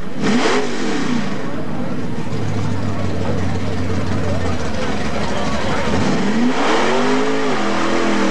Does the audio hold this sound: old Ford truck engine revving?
yes